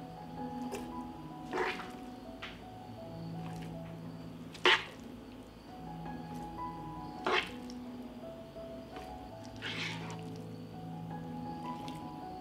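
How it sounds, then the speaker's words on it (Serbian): Wet squishing and dripping as fried meat is spooned into jars, with occasional clinks and scrapes over steady background noise. "Meso je isprženo i odmah ga sipam u tegle."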